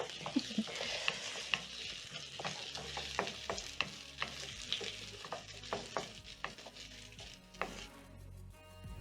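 Onions fry in a pan for a chicken and vegetable stir fry, a steady quiet sizzle broken by repeated scrapes and taps of a utensil stirring against the pan.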